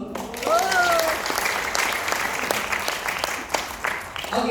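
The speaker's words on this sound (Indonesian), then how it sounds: "Aplaus dong." An audience at a health product presentation bursts into dense, steady applause, close and loud, with clapping sustained throughout and a brief whistle-like tone near the start.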